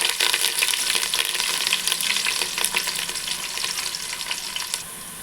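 Green chillies and onions frying in a pan give a steady, bright crackling sizzle with dense popping throughout, close and loud, easing slightly toward the end, with no talk.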